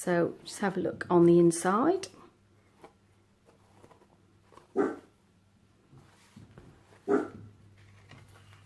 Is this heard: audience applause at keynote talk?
no